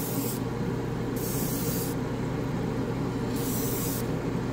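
Bursts of hissing from a paint spray gun spraying black paint switch on and off in short pulses over a constant loud fan roar from a waterfall spray booth.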